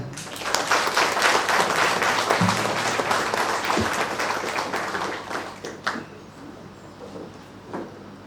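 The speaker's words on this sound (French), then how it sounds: "encore une fois, on applaudit les autres" An audience at a charity choir's album launch breaks into loud, dense applause that gradually thins and fades over several seconds, leaving scattered claps and room noise.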